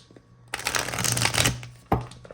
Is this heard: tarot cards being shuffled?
yes